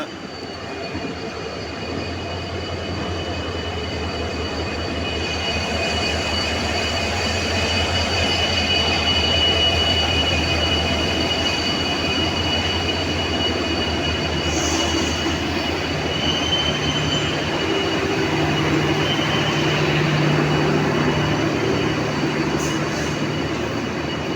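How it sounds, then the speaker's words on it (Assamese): A late passenger train pulling into a station on the Donyi Polo Express route, a loud continuous rumble of wagons rolling past close by, with squealing wheel tones and rail clatter throughout. "চাৰিটা 15ত অহা ট্ৰেইন এতিয়া আহি পাইছে দেৰিকৈ।"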